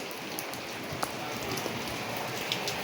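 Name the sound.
rain falling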